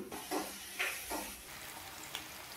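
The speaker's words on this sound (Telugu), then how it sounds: "ఇప్పుడు ఈ ఉల్లిపాయ పచ్చిమిర్చి కూడా గోల్డెన్ కలర్ వచ్చేంత వరకు అయితే వేయించుకుందామండి" Chopped onions and green chilies fry in a pan, a steady soft sizzle with a few brief stirring scrapes, close and fairly quiet with no voices.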